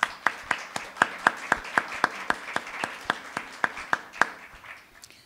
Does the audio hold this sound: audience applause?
yes